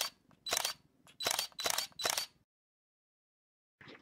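A camera shutter clicks four times in quick succession while a selfie is taken, the crisp snaps close and distinct, followed by a pause and one more short click.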